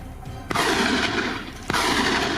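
Gunfire during a wild boar hunt on farmland: two sharp, loud shots about a second apart cut through a dense, continuous background roar of noise.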